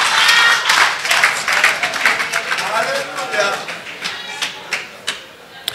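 Church congregation applauding during a sermon, a burst of clapping under a speaking voice that thins into scattered claps.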